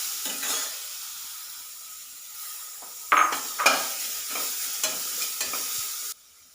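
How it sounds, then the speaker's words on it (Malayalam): Grated medium carrot fries in ghee, giving a close sizzle broken by repeated stirring scrapes and clatters against the pan, loudest in the second half before stopping abruptly. "ഇനി അതേ നെയ്യിൽ തന്നെ ഒരു മീഡിയം സൈസ് ക്യാരറ്റ് എടുത്തിട്ടുണ്ട് ഗ്രേറ്ററിൽ,"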